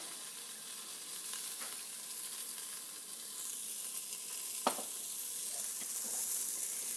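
Mexican seasoning blend toasting in a hot pan with a steady, fairly quiet sizzle, broken by a few sharp scrapes or stirs and one crisp tick partway through, with no talking.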